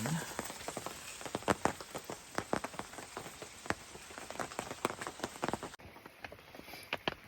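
Rain pattering on a tent at night during a camping trip on a Wisconsin adventure trail, with irregular close drops tapping loudly against the fabric over a soft steady hiss.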